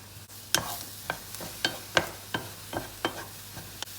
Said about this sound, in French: Je remue un petit peu,